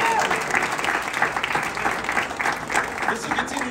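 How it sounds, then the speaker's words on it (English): Audience applause for a member of the 2022 US Air Force Thunderbirds demonstration squadron, a steady wash of clapping at moderate level with faint voices underneath throughout. "So huge round of applause for Thunderbird 7."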